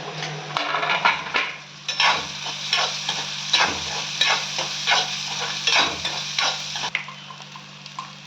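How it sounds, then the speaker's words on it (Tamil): Chopped onion, green chilli and curry leaves sautéing in hot oil, a continuous crackling sizzle punctuated by regular rhythmic scrapes of a spatula against the pan, with a low hum underneath and no voices. "எண்ணெய் காஞ்சிருச்சு வெங்காயம் போட்டுக்கோங்க அப்புறம் பச்சை மிளகா கொஞ்சம் கருவேப்பிலை இதையெல்லாம் நல்லா வதக்கிக்கிங்க"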